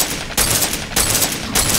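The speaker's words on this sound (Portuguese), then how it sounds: "Você vai errando e eu vou atirando." Rapid gunfire in a zombie shooter video game comes in three loud, dense bursts of fast repeated shots, each cut off briefly before the next, with no speech.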